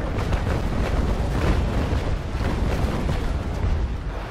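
A naval brig in Naval Action Legends fires its carronades, producing a heavy, continuous rumbling roar of cannon blasts that blur together, loud and steady throughout.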